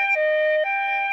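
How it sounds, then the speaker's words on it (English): Siren sound in half-techno, half-metal pro wrestling entrance music: a loud, sustained two-tone wail that steps between pitches, held steadily over the track with no talking. "That's like the siren doesn't even fit with the beat."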